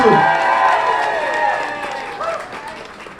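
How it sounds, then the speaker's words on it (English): A large crowd applauds loudly at a DC election night event, dense steady clapping mixed with cheering voices that slowly eases over a few seconds. "give them a round of applause"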